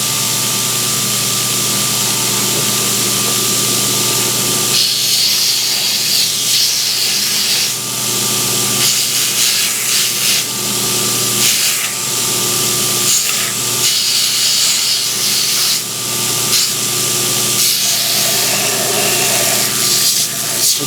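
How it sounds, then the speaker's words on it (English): Belt sander grinding and shaping a wooden knife handle, a steady abrasive rasp over a constant motor hum that pulses as the piece is pressed and eased off the belt, close and loud with no talk. "Now we can start to shape this handle on the sanding belt."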